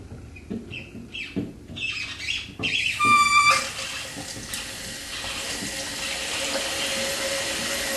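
Water rushes into a toilet tank through a newly installed Fluidmaster fill valve: a few sputtering bursts and hisses at first, then a loud surge that settles into a steady, even filling flow.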